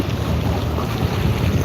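Wind gusts roar steadily against the microphone outdoors in the dark, a loud, continuous low rumble with no voices.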